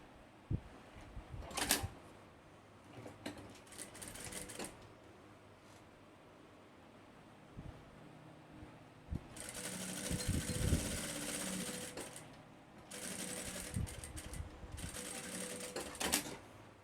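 A sewing machine stitches elastic onto the side of a backpack with a wide stitch, heard in short bursts early on and then two longer close runs.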